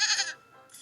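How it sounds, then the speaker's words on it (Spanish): A single sheep bleats once, short and fairly close, with a faint second cry trailing at the end. "las ovejas"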